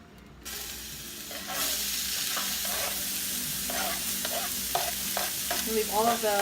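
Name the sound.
onions and shrimp frying in olive oil in paella pan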